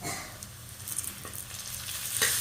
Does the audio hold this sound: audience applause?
no